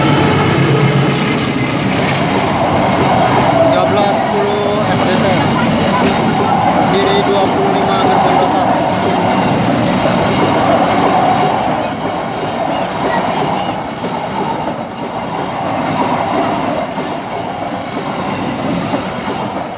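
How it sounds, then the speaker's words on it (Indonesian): A fast freight train of flat wagons rushes past close by, a loud continuous roar of rolling wheels and rail clatter that eases slightly toward the end, with excited voices calling out over it. "Gerbong datar melintas langsung."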